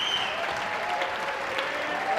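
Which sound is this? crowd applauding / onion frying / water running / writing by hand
crowd applauding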